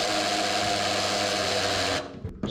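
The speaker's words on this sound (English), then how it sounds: "She sound like a dang hammer drill." A drill bores a pilot hole through 1/4 inch steel plate with a loud, steady, high-pitched grinding whine that cuts off abruptly near the end, followed by a brief rattle.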